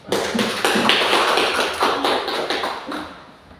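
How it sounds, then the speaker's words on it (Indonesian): Audience applause at an education training session, a dense burst of many hands clapping close by for a few seconds, then gradually thinning and fading out. "sekali lagi kita beri aplaus"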